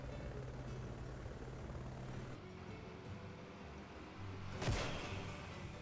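A helicopter in the off-road racing game Baja: Edge of Control holds a steady engine and rotor drone under the game mix, with a brief louder swell near the end.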